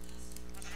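A sheep bleats in a Minecraft-style video game, a short, steady, loud nasal call that fills the whole brief moment.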